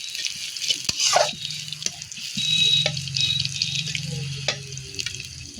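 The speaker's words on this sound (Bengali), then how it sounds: "এটাকে এবার একটু নাড়াচাড়া করে নেব।" Food stirred in a frying pan for a Bengali home dish, sizzling steadily with scraping spoon strokes and a brief watery splash, close and moderately loud with no talk.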